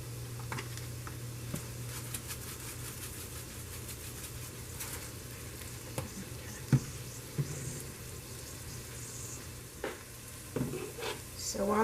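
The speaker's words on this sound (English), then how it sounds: "I love the sound of something frying." Sliced peppers sizzle in a hot pan, a steady soft frying hiss with occasional scrapes and clicks of stirring, fairly quiet and with no voice over it.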